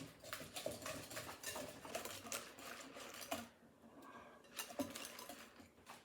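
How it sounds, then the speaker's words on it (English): A utensil scrapes and clacks against a pan as chicken is stirred around, a quick irregular run of rattling taps, faint and close, with a brief lull midway before the clatter resumes. "So we're just going to stir this around."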